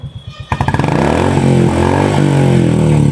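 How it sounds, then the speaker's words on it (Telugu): A motorcycle with a modified silencer sputters briefly, then revs up into a loud, steady, throaty drone with a rough, rumbling exhaust note, close by. "ఈ సైలెన్సర్ కూడా మీరు మోడిఫైడ్ సైలెన్సరే"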